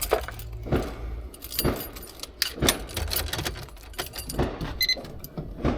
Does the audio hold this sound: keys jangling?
yes